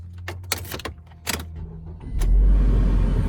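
A 2009 Mazda3 with 115k miles is started with its key: a few clicks and key rattles, a brief cranking burst, then the engine catches and settles into a loud, steady idle close by.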